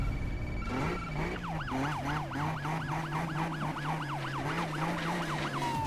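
Police car sirens in the Need for Speed racing game wail in a fast repeating yelp over a steady low engine tone, loud and close throughout, with no talk.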